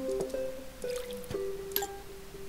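Watering plants in the Plants vs. Zombies video game: a quiet run of bright, tonal dripping and splashing effects, several short droplet plinks over a soft liquid trickle, heard alone.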